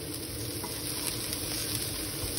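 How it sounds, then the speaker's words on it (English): Green beans and tofu roast in a hot pan, giving a steady close sizzle and crackle with occasional stirring scrapes throughout, no talking. "So I'm roasting a little bit the green beans and the tofu a little bit more."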